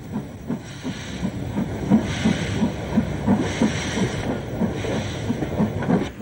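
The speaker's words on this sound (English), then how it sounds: "One of the first of Maunsell's brand new schools class 440s, number 908, Westminster, backs onto its train." Maunsell Schools class 4-4-0 steam locomotive No. 908 Westminster, a new engine running without smoke deflectors, backs slowly onto its train at London Bridge. It gives a steady run of soft, rhythmic chuffs over a constant background of steam hiss.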